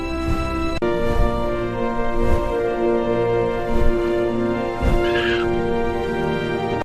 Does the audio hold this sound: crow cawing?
yes